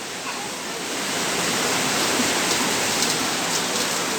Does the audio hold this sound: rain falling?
yes